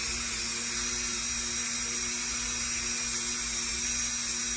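Polymer clay pendant pressed against a spinning rotary buffing wheel, a steady high-pitched motor whine with a continuous hum and faint rubbing texture, unbroken throughout.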